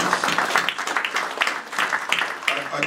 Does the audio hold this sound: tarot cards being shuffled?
no